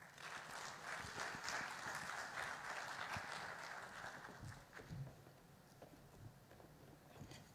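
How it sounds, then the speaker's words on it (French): Audience at a panel event applauds after a poem, a full, sustained round of clapping that gradually thins and softens toward the end, heard without talk. "S'il vous plaît, encore une salle d'applaudissements à M. Protège pour ce sublime poème African Energy."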